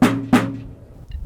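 A rope tension side drum with gut snares on the bottom gives two sharp, crisp strikes about a third of a second apart, each with a bright rattling buzz that dies away quickly, close and loud.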